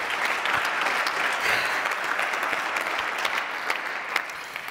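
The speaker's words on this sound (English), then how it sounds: "Give an applause for Amparo." Sustained audience applause at a startup demo night pitch event, a steady dense wash of many hands clapping throughout at moderate loudness.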